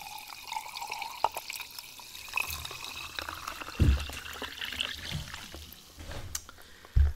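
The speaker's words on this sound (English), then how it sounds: "Some more of me refilling my glass of sparkling mineral water." Sparkling mineral water is poured into a glass, a continuous close trickle and fizzing splash with occasional clinks and bumps.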